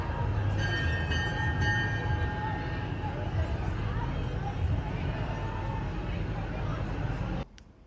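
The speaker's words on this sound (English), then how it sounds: "There's a little choo-choo train coming through." A small train rumbles steadily past in a Santa Claus parade in Sarnia, with a low mechanical drone and faint chimes, crowd noise mixed in, before cutting off abruptly near the end.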